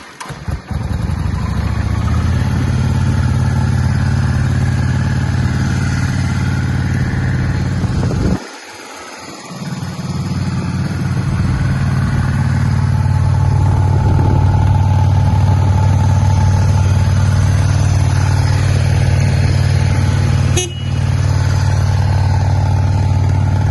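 A Yamaha Drag Star 650 motorcycle engine cranks, catches and runs in a loud, steady idle close by. The rumble dips briefly partway through, then settles back into an even throb with no talking.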